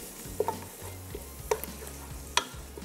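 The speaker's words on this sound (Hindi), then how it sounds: "और इसमें जाएगा ये दही और इसकी करेंगे अच्छे से भुनाई।" Masala and yogurt fry in a pan for egg keema biryani, a steady sizzle broken by several sharp scraping stirs of a spoon against the metal.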